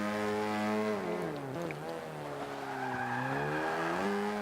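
A 1965 Mini Cooper on cold tyres in the racing game Forza 5 drives with a steady, buzzing engine note that rises and falls through gear changes, with tyre squeal and skidding, close and continuous with no talk.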